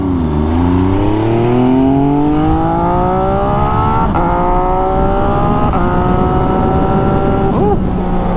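MV Agusta Superveloce motorcycle fitted with an SC Project exhaust, revving loud and close as it runs up through gears, the engine pitch climbing and dropping at several quick shifts with crackles on the downshift.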